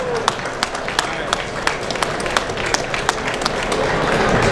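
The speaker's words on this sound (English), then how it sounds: "How about a round of applause for this beautiful Corvette?" Audience applause at a car show unveiling of a 1963 Corvette studio concept, a steady crowd of clapping hands with sharp individual claps over a rising wash, fairly close.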